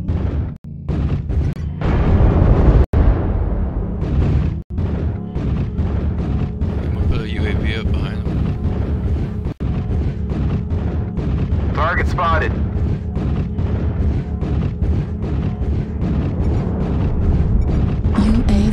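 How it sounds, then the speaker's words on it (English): Airstrike explosions in a first-person shooter game, with dense booming blasts and sharp cracks rumbling continuously, layered with game voice callouts and music. "Airstrike online. Bravo's got to go. Airstrike activated."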